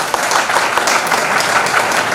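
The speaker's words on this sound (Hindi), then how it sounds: "तो मैं चाहूंगा एक बार आप सारंगदेव साहब को, करमल साहब को जोरदार तालियां।" An audience at a Hindi-language fortnight closing event at a law college applauds poets, a dense burst of many hands clapping loudly and close for a couple of seconds.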